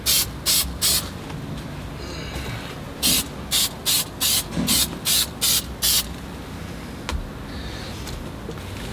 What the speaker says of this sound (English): spray the metal where it's going to go, spray the insulation